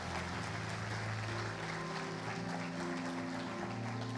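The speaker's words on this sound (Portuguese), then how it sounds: "Você pode dar uma salva de palmas a Jesus?" A church congregation claps during a sermon, a continuous wash of hands heard fairly far off beneath a sustained low musical drone, with no voices on top.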